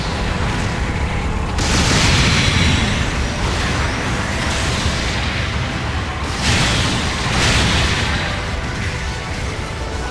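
Explosions in a Gundam video game as an enemy mobile suit is destroyed, a continuous rumbling barrage with several heavier booming surges, loud and dense throughout, no talking.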